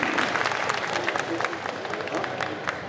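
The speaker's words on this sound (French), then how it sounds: "On peut l'applaudir très fort, la princesse Réponse." Crowd at a Disney concert during a geek convention applauds a performer dressed as Princess Rapunzel, a continuous dense patter of many hands clapping at moderate level throughout.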